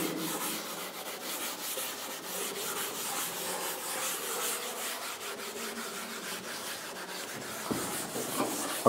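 Steady dry rubbing of an eraser across a lecture board, a continuous scratchy wiping that carries on without pause for the whole stretch, close and fairly loud, with a couple of sharper knocks near the end.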